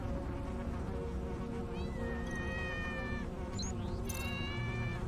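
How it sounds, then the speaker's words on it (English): A cat in the video game Tales of the Neon Sea lets out several drawn-out meows over a constant buzzing, droning background, near and fairly loud. "that cat is actually getting a little bit annoying now"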